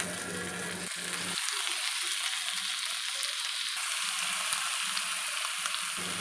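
Chicken pieces dropped into a pan of cooked-down spice masala send up a steady, close sizzle and fry that holds for several seconds, with a few faint scraping knocks from stirring and no talking.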